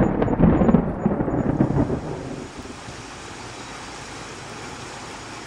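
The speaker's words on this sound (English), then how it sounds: "Flashes of lightning, followed by rumblings and clashes of thunder" Rolling thunder from a winter storm, a loud low rumble in the first two seconds that fades into a steady wash of wind or rain noise.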